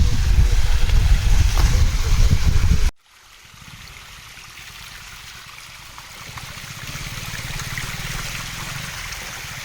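Water flows down Satkunda waterfall, splashing steadily, loud and close at first, then continuing as a softer, constant rush after an abrupt cut.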